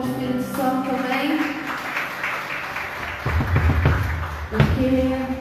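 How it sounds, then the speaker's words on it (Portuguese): A church worship congregation claps for the Holy Spirit, applause swelling in the second half under sustained music and a speaking voice. "Vamos lançar uma de palmas para o Espírito Santo também."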